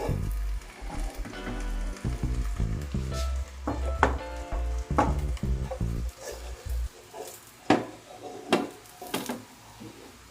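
An omelette fries in a pan, giving a steady sizzle with scraping and clatter from turning it over, while a low hum and brief voices sit underneath.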